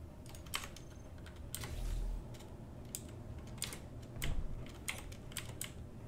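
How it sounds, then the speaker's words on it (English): Clacky keystrokes from a mechanical computer keyboard, a Hermes P1, come in irregular bursts of close, crisp clicks over a low steady background hum during a Space Engineers survival game session. "it is a mechanical keyboard, and it is oddly soothing to hear"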